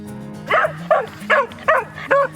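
A puppy outdoors in the Norwegian mountains gives five short, high yips with whimpering edges, evenly spaced and close, over a low background hum.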